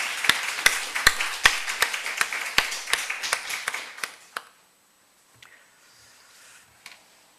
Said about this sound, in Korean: 우리 주님의 은혜에 우리 감사의 박수를 좀 드렸으면 좋겠습니다